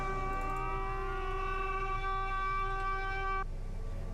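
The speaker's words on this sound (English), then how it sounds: "Just to stop the air raid siren once again." A steady, loud, multi-toned air raid siren from the naval strategy game Victory at Sea Pacific wails with an even pitch for about three and a half seconds, then cuts off abruptly, leaving a low background rumble.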